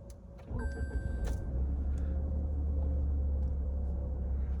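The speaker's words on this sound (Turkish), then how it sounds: "Şu bakalım 3 silindirli motor sesi nasıl hemen içeri alacak zaten" A Toyota Corolla 1.5 Dynamic Force three-cylinder petrol engine idles with a low, steady rumble, heard close after a brief electric window whir near the start.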